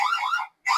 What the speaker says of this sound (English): This is alarm.